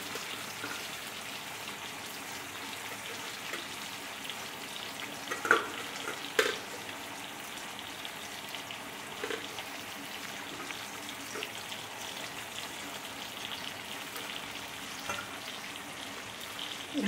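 Malabar spinach cooks down in a pan, releasing its water, a quiet even simmering sizzle with a couple of soft clatters from the pan partway through.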